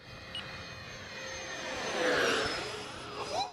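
A Freewing V2 A-10 radio-controlled jet with twin 80mm electric ducted fans flies past on a grass field, its steady whining fan roar swelling toward the middle and tailing off with a brief rising whine near the end.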